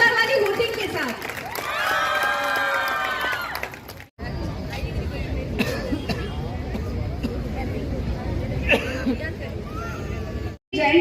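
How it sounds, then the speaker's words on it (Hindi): At an honoring ceremony in Ajmer for Savitribai Phule's birth anniversary, a large crowd claps, cheers and hoots loudly and continuously, a dense roar of applause with voices mixed in and a brief high call near the start. "क्या जोरदार तालियों की आवाज नहीं आनी चाहिए? और एक जोरदार वाली हूटिंग के साथ।"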